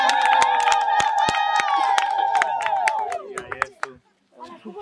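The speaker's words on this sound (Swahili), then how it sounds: "Tumshangilie Yesu kwa makofi mengi sana" Church congregation celebrating Jesus at a baptism gathering, loud clapping and cheering with singing voices and shouts, tapering off into scattered claps and talk.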